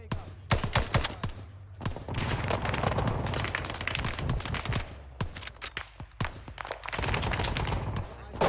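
A big gun firing in ArmA 3 during a Vietnam-era combined arms operation, rapid heavy bursts of automatic fire with sharp repeated cracks and gaps between volleys, loud and close, with occasional talk.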